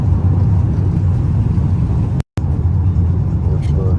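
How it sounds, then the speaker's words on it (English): A car driving through Paris at night, with a steady low road rumble and engine drone from inside the cabin, continuous and fairly loud, briefly cut out once. "It's just us driving through the city."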